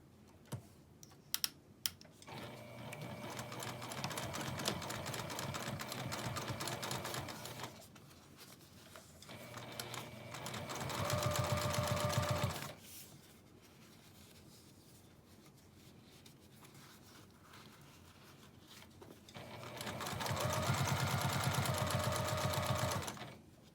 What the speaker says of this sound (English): then I'm going to top stitch along this flap.